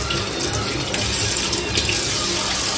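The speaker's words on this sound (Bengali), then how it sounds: "তো সর্ষার তেলটা দিয়ে দিচ্ছি" Mustard oil pours in a steady stream onto a marinated hilsa fish, a continuous close liquid trickle and splash lasting a few seconds with no talk.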